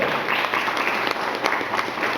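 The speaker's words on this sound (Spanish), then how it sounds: "¿Cuántos le dan un aplauso al Señor?" A church congregation applauds the Lord with a steady, dense wash of clapping that holds at an even level throughout, with no voice rising above it.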